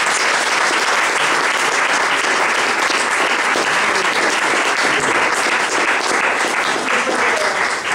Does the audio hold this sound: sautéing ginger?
no